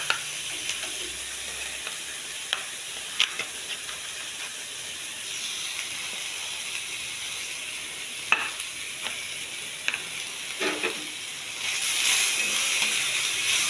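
Broad beans being stir-fried with grated coconut in a pan give a steady soft sizzle and hiss, with occasional sharp scrapes and clicks of a spoon stirring, growing slightly louder near the end.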